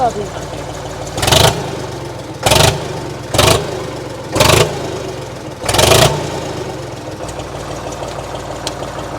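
A tractor engine, a Farmtrac 60 or a Preet 955, idles with a low rumble and is revved hard in five short, loud bursts spread over several seconds.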